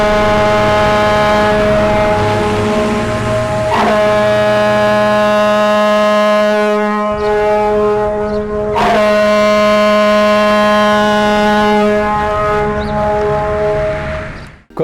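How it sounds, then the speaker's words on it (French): A French national alert siren sounds its foghorn-type signal warning of a dam failure or major water release. Loud, steady horn-like blasts sustain for several seconds each, separated by short breaks, harsh and close. "le signal d'alerte spécifique de type corne de brume avertit la population de la rupture de l'ouvrage ou d'un lâcher d'eau important"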